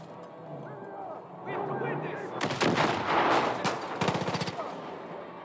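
Gunfire in the video game Far Cry 5, a burst of sharp broadband shots landing at a headshot, several close reports in quick succession with a rapid rattling volley near the end, over excited talk.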